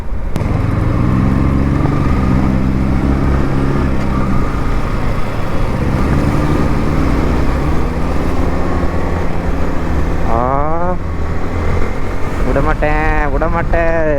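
A modified Honda Civic with a large aftermarket silencer idles and revs with a loud, steady exhaust drone, rising in pitch toward the end, with voices talking over it.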